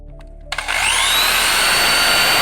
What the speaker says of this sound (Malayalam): അതിനായിട്ട് ആണികൾ തറയ്ക്കാനായിട്ട് ചിരട്ടകളുടെ സൈഡിൽ നമുക്ക് 2 ഹോൾ ഇടാവുന്നതാണ്